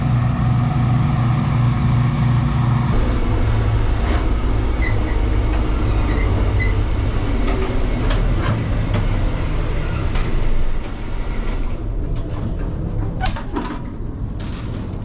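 A Bizon combine harvester drives nearby with a heavy, loud, continuous engine rumble and mechanical clatter, while birds chirp faintly in the background.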